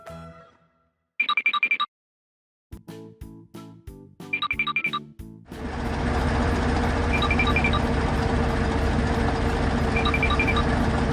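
A hydraulic excavator works nearby with a steady, loud engine rumble, preceded by beeping tones and a series of sharp mechanical clanks and knocks.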